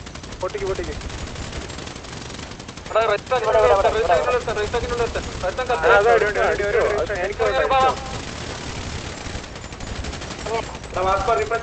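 Rapid bursts of automatic gunfire and scattered shots ring out in a mobile battle-royale team fight, loud and dense, while several players talk excitedly over the action.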